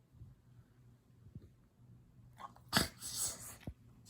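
A dog sneezes sharply and close by after soft breathing and sniffing, with a short burst of snorts near the end in a quiet room.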